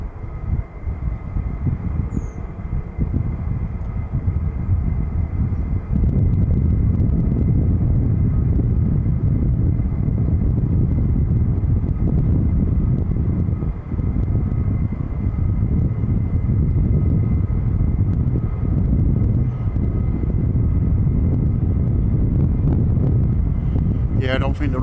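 A military aircraft on the runway at RAF Lakenheath at night gives a steady, loud, low roaring rumble that lasts throughout, with wind buffeting the microphone.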